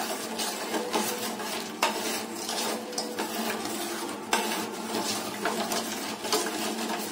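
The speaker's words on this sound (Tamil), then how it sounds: "இந்த வெல்லம் நல்லா கரையிற அளவுக்கு நம்ம நல்லா மிக்ஸ் பண்ணி விட்டுக்கலாம்" Jaggery being stirred into colostrum milk in a bowl with a spoon, a steady run of close clinking and scraping against the bowl, with sharper knocks now and then and no talking.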